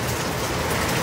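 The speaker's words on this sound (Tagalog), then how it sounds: "Kahit ang lakas ng ulan, basang-basa na kami ni Habi" Heavy rain pours during a typhoon, a dense, steady, close hiss of water drumming on surfaces with no break.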